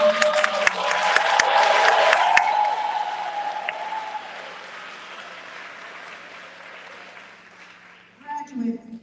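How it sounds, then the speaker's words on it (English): A crowd at an eighth-grade graduation ceremony claps and cheers loudly, the applause swelling then gradually fading away before a voice begins. "Let's give the class of 2021 a round of applause."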